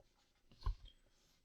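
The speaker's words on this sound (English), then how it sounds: "I'm going to get a piece of paper, and I'm going to draw something here" A pen draws on a sheet of paper during a supply and demand lesson, giving a brief close scratch of nib on paper in a quiet room.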